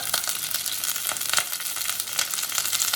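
Masala sizzles and fries loudly in a pan for bhindi mutton salan, a steady crackling hiss with frequent sharper spits, close up and without talk.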